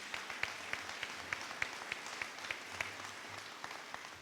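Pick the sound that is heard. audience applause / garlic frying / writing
audience applause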